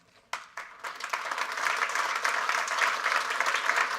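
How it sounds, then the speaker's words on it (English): An audience breaks into applause to welcome a cybersecurity summit panel, starting with a few scattered claps and swelling into steady, full clapping from a medium-sized crowd. "You should probably hold your applause."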